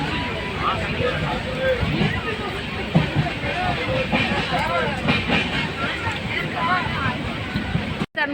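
A passenger train travels on rails from Chennai toward Salem, a steady rolling rumble with faint rhythmic clatter heard from inside the carriage, while people talk over it.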